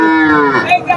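A calf at a village cattle market gives one loud, close moo, a drawn-out tonal bellow that slides downward and breaks into short grunts at the end.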